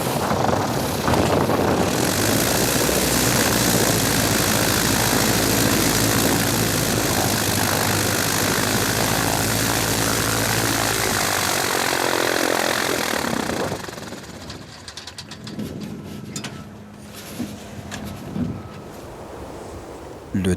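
A bush plane's propeller engine drones loud and steady with heavy wind noise as it comes down onto a steep hillside slope in the Alaskan wilderness, then the roar cuts away to quieter rumbling after touchdown.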